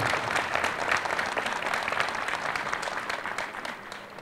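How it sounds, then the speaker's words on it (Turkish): A crowd at the opening of an election campaign communication centre breaks into sustained applause, moderately distant and even, with no talking over it, gradually easing toward the end. "Bir alkış daha istiyorum ben Semih Başkanım"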